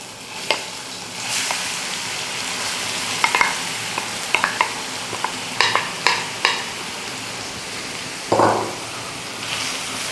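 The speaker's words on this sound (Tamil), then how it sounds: "இப்போ நம்ம இந்த கேரட் உள்ளே போட்டு வதக்க போகிறோம்" Grated carrots sauté in hot ghee in a pan for a carrot apricot kheer, a close, fairly loud sizzle with scattered scrapes and taps from stirring and one louder clatter partway through, no talk.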